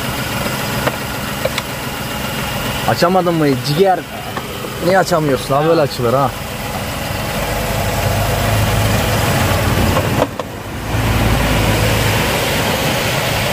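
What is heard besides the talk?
car engine idling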